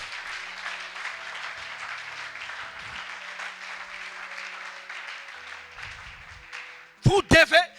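A crowd at a French-language religious gathering applauds steadily, a dense continuous clapping that runs throughout, with a few louder voiced shouts near the end.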